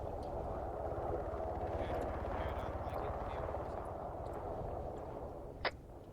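A Chinook helicopter landing in a tactical video game, heard as a steady heavy rotor thump that fills the whole stretch, with one short sharp crack near the end.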